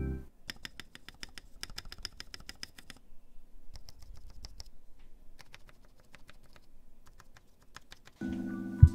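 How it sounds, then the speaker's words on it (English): Keystrokes on an Idobao ID80 Crystal keyboard fitted with new Durock V2 stabilizers: bursts of crisp, close clacks in irregular runs, with pauses between them and a low thump near the end, and no talking. "Here's a sound test with the new stabilizers."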